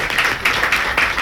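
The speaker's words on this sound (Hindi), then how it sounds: "एक बार जोरदार तालियां चाहेंगे" Audience applause at an RCM business-plan seminar: dense, steady clapping from a crowd, loud and continuous for the whole moment, with slight swells in intensity.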